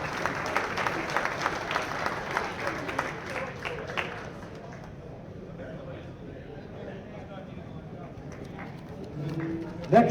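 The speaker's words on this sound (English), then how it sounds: "Round of applause." An audience claps in a steady round of applause for a bowling Hall of Fame inductee at a USBC induction ceremony, loud at first, then fading to a quieter patter.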